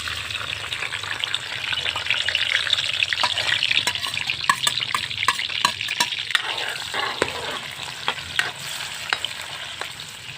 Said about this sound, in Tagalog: Dahil mainit na yung ating mantika, ilagay natin yung ating mga lamas, yung kamatis, bawang at sibuyas.